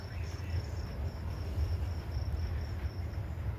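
Insects chirp steadily at night at a riverside campsite along the Missouri River, a dense continuous buzzing drone with a faint high whine, no voices.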